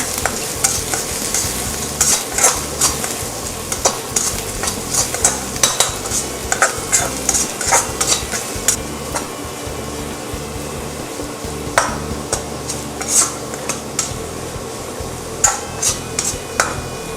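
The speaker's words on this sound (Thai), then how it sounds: "เรา จะนำกระเทียมเนี่ยลงไป เจียวในน้ำมันค่ะ จะใช้เป็นกระเทียมจีนนะคะ" Chinese garlic frying in oil in a pan over the lowest heat, with a steady sizzle and frequent clinks and scrapes of a utensil stirring against the pan throughout.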